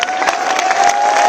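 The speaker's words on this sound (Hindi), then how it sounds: "इसका हम जश्न मनाएं तालियों के साथ।" Crowd at a Jantar Mantar rally applauding and cheering together, a dense wash of clapping with shouts rising through it, steady and fairly loud for a brief moment.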